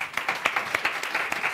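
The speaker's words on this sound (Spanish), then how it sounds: "Un aplauso, pues, para..." An audience at a televised interview claps briefly, a dense, moderately loud burst of many hands without voices.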